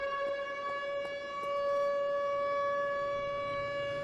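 Siren wailing in the dinosaur horror video game Tempus Triad, a loud steady civil-defense style tone with strong harmonics that holds throughout, alone without voices.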